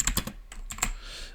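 A short burst of typing on a computer keyboard: several quick, close, crisp key clicks in an uneven rhythm, with no voice.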